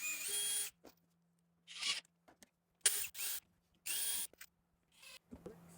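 A power drill drives 1 inch exterior deck screws into a wooden planter in four or five short, close bursts of whirring with quiet pauses between them.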